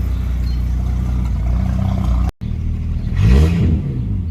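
BMW E38 750iL with a V12 engine, run-down and neglected, rumbling at a steady idle, cutting out briefly, then catching again and revving up into a loud, rising roar before settling, with no talk.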